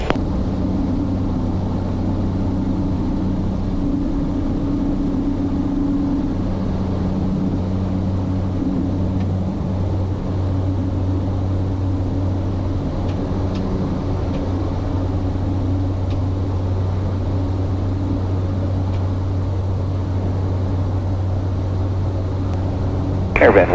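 A Cessna Caravan turboprop holds a steady, loud engine drone and hum heard from the cockpit during a takeoff run, constant throughout, with a brief rise at the very end.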